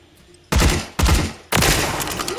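A gun in Call of Duty fires three loud, abrupt bursts about half a second apart, after a quiet start; each burst is a dense rattle of rapid shots, and the last keeps going to the end.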